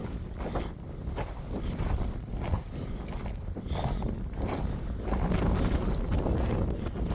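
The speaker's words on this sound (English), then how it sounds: "Well, the wind is blowing." Strong wind buffets the microphone on the Steens Mountain loop road, a loud continuous roar with gusty surges and rumbling low end that fill the whole stretch.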